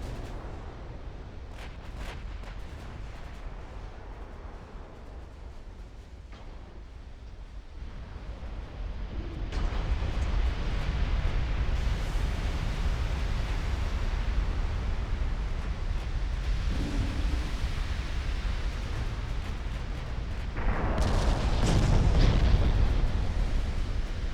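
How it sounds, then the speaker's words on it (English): Battleship guns fire in the naval game Ultimate Admiral: Dreadnoughts during a 1960 Ottoman campaign battle against the Soviet navy: a steady, heavy low rumble broken by repeated booming blasts. It swells louder partway through and peaks in a strong burst near the end, with no talking. "we're kind of wrecking it with the battleship guns"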